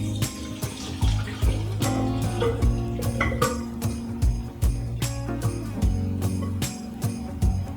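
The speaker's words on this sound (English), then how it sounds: "I'm going to strain it first. Don't want that extra water in there." Cooked food being strained, with water pouring steadily from a pot through a strainer into a sink, broken by repeated sharp clinks and knocks of metal cookware, close and fairly loud throughout.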